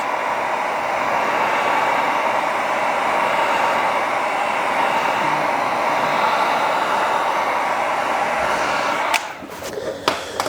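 A heat gun blows hot air onto vinyl wrap on a Toyota Supra's rear canard, a steady close whooshing roar that runs continuously, then cuts off near the end with a few sharp handling clicks.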